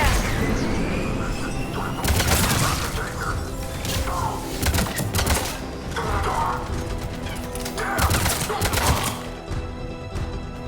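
Gunfire at a checkpoint in the Mass Effect 3 video game, rapid sharp shots in repeated bursts over ongoing combat noise and a music bed, with voices talking at times.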